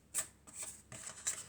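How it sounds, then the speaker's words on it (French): A card is drawn from a tarot deck with a few quick, soft papery slides and flicks, close and quiet, and no one speaks. "on va prendre une dernière carte."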